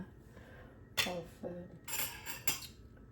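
A spoon scrapes and clinks against a dish while scooping a heaped spoonful of blackberry yogurt, a few short metallic taps and scrapes close by in a quiet kitchen.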